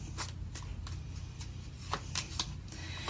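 Tarot cards being shuffled and drawn for a Gemini reading: a steady run of quick papery riffles and soft slaps, close and fairly loud, with no talking over them.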